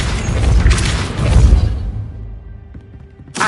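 A Depulso spell cast in the Hogwarts Legacy video game: a heavy booming whoosh that swells twice over about two seconds, then fades to a quiet tail before a sharp burst at the end.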